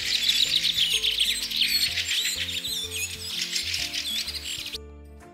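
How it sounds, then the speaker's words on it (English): A bird tweets in a dense run of quick, high chirps, loud and close, with no voices, before the sound stops abruptly near the end. "The bird's sound is tweet."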